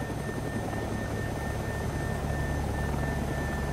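Helicopters in the DayZ game, a steady droning rotor and engine hum with a constant whine, heard alone and at moderate level throughout.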